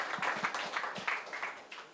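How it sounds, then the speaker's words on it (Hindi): Audience applause welcoming the poet Obaid Azam Azmi at an Urdu mushaira, a brief, fairly faint patter of scattered hand claps. "भरपूर तालियों से इस्तकबाल करें उबैद आज़म आज़मी साहब का"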